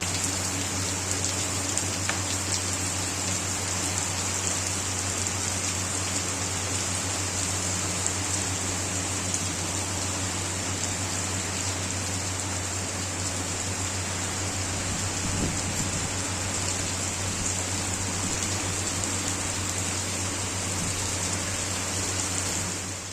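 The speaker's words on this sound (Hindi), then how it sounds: "तो ये देखिए यहाँ पे बारिश का नज़ारा।" Heavy rain pours down steadily on a village, a dense, unbroken hiss of drops on surfaces with no voices.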